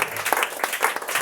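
A congregation in a church service applauds, producing a close, dense patter of many hands clapping in a brief continuous burst.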